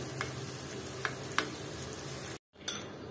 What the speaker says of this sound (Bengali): পেঁয়াজটা আমি সরিষার তেলের সাথে হালকা ভেজে নিব